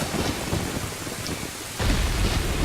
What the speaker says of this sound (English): wait, that's not the right song. I shouldn't make it rain.